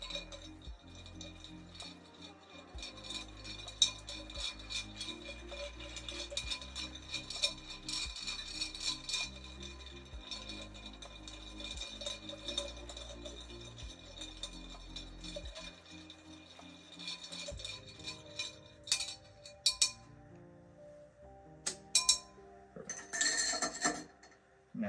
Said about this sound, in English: And then I'm going to stir it for roughly 30 seconds.